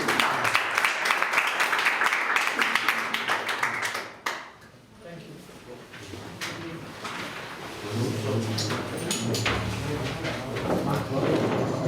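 A small tech meetup audience applauds at the close of a Ruby on Rails intro session, scattered claps near the mic that dip briefly, then resume under background chatter.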